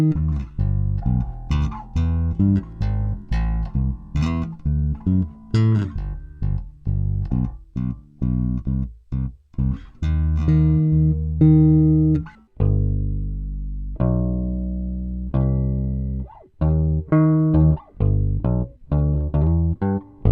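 An electric guitar pitched down to stand in for a bass guitar, playing low picked notes and riffs at a fairly loud level with no talking, shifting into longer sustained low notes partway through.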